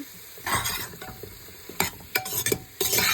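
Bottle gourd pieces fry in a pan, with a soft constant sizzle broken by several quick, close scraping bursts of stirring.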